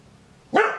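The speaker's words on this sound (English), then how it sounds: "Sorry about the dog." A dog gives a single loud, close bark after a moment of near silence, the sound fading quickly.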